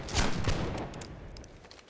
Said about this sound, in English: We'll keep firing at them.